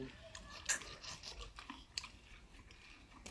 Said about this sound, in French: Oh la belle pomme. Allez, 1h30 pour manger une pomme. Croque.